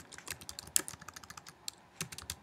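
Irregular bursts of clicky computer keyboard typing, close and fairly quiet, with several louder key strikes scattered through short pauses and no speech.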